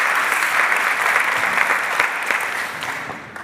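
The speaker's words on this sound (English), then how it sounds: "warm applause" Warm audience applause at the close of a day of an antimicrobial resistance conference, a dense, steady clapping from a full room that holds throughout and tapers slightly at the end, with no talk over it.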